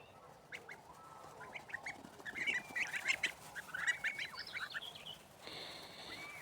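Nine goslings outdoors giving soft, high peeping calls in quick scattered bursts, fairly close but quiet over faint background noise.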